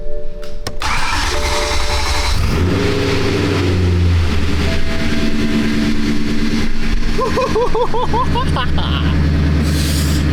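A BMW E92 M3 engine, rebuilt after a rollover, cranks and catches, then runs loud and close with a steady idle and brief revs while people talk excitedly over it.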